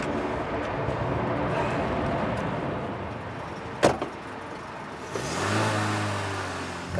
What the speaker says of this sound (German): Täuschend, echte Nachbildung meines alten ersten Autos.